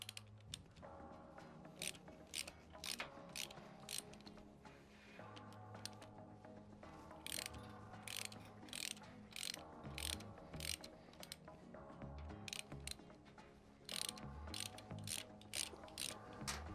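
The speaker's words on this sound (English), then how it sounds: "let's go ahead and get these screws out of this cover" A hand ratchet removes screws from a Harley-Davidson motorcycle cover, giving repeated close bursts of rapid metallic clicking with short pauses between strokes.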